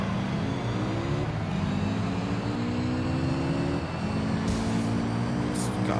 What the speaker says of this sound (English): Sounds like a few rally cars. There's a few rally cars.